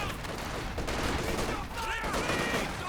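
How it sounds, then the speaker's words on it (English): An MG34 machine gun fires in the Company of Heroes 2 strategy game, a steady, dense rattle of automatic fire that holds throughout amid other battlefield noise. "the MG34 working well"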